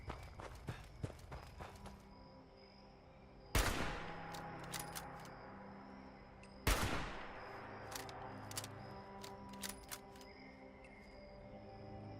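Gunfire rings out in a video game set at a ski lodge in Appalachia, fired to lure ghouls: two sharp, loud shots several seconds apart among lighter clicks and footsteps, with steady low ambience beneath.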